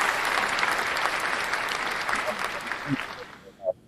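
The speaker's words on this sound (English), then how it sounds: "Hand clap for them, man." Hand clap applause from a small group, dense clapping that gradually thins and fades, with voices coming through near the end.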